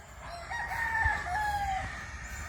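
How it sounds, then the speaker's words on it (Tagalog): Fighting roosters on a farm in Claveria, Misamis Oriental, crowing one after another in drawn-out, overlapping calls, moderately distant against a low rumbling background. "Ari na gid ang mga panlaban ko diri oh."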